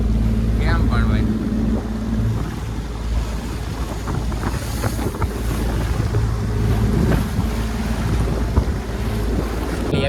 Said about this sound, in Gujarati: આ રીતના કંઈક મોજા આવે છે ને આખી બોટ અમારી વર્કિંગ લઈ જાય છે